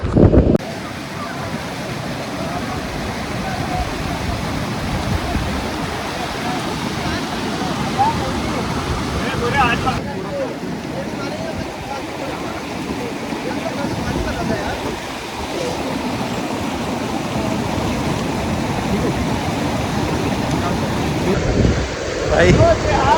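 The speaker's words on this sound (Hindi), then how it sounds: "भाई पानी बहुत ठंडा है, जस्ट वाटर क्रॉसिंग की है, इतना ठंडा पानी" On a Himalayan mountain trek, a cold mountain stream rushes past at a water crossing, a constant broad roar of flowing water mixed with wind buffeting the microphone, with bursts of talk in between.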